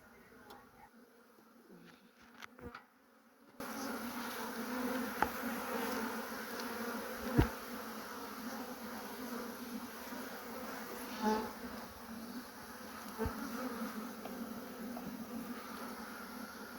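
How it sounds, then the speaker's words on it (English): A calm honey bee colony buzzes steadily at an opened beehive during a brood and honey inspection, with a dense, continuous insect drone close by after a quieter start, and a person speaking intermittently over it. "once I stop smoking, they will all settle down instead of buzzing around"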